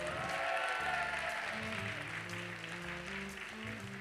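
Applause at the closing ceremony of the FF1J 2023 event, given to the staff and volunteers: a steady wash of clapping from a crowd, moderately loud and continuous, with a faint voice briefly underneath.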